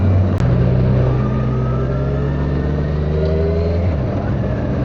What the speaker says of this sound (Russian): Моторчик как газонокосилки